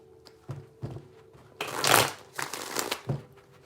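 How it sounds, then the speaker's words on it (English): A deck of tarot cards is shuffled by hand in three bursts, with crisp riffling rushes and sharp taps close to the microphone and a louder swell in the middle, with no talking. "3 shuffles with the Moon in reverse."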